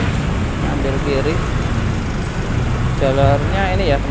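Steady, loud congested roadway noise in Bekasi, West Java, with a continuous rumble of cars, buses and trucks crawling nearby, under brief bursts of a speaking voice.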